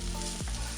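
Onions sautéing uncovered in a pan for beef masala, a steady close sizzle with one brief scrape of a spoon partway through.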